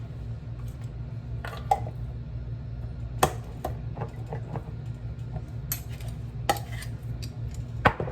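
Spoon scraping and tapping in a jar of Better Than Bouillon paste in a kitchen, several sharp clinks and scrapes spread irregularly over a low steady hum.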